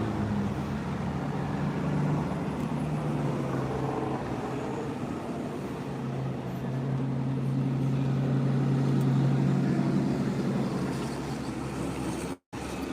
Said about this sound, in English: Trying to talk over the darn cars. Because I know the cars are loud.